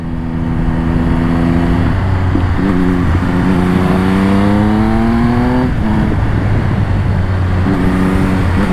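A Triumph Speed Triple 1200 RS motorcycle roars loudly at speed on an open road, its engine note rising and falling steadily through gear changes and downshifts, with wind rush throughout and no talk.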